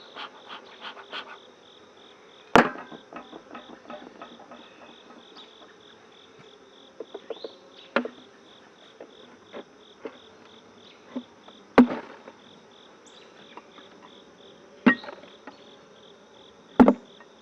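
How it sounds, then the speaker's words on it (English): Honeybees buzz around an open hive during a beekeeping inspection, a faint, steady hum broken by sharp knocks and clunks of hive boxes being handled nearby. "Hope you can hear that clunk of the bees."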